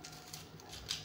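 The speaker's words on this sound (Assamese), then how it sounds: "এতিয়া এইখিনি পাতখিনি অলপমান সৰু কৰি কাটি ল'ম।" A single quiet snip of scissors cutting ginger leaves into small pieces, brief and close.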